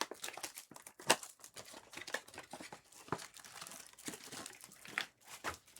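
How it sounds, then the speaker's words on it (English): Trading card boxes and packs from a Topps Chrome Update NBA case are torn open with close, continuous crinkling, tearing and crunching of cardboard and foil wrappers. The sound is fairly quiet and comes in busy bursts. "I'm ripping these boxes upside down"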